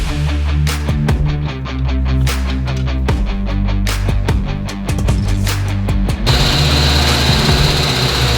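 A car engine fitted with a newly installed Edelbrock Pro Flo 4 fuel injection, with its distributor re-stabbed, idles steadily with a loud, close, rumbling drone and a regular pulsing beat throughout.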